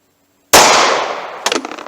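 A single loud, sharp shot from a 9mm +P pistol firing Hornady Critical Duty ammunition, with a long ringing decay and a brief clattering burst about a second later.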